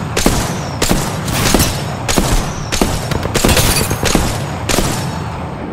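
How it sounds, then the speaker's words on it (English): Gunfire in Apex Legends near the closing ring, a burst of loud, sharp shots in uneven clusters spread across the span with short gaps between volleys. "I am taking fire."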